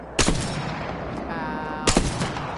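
Two heavy Longbow rifle shots in Apex Legends, sharp loud cracks spaced a bit over a second and a half apart, each trailing into a short ringing tail between them.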